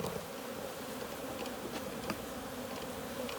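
Honey bees swarm around a honeycomb, a close, dense buzzing hum with individual insects flitting past now and then, steady and soft throughout with no speech.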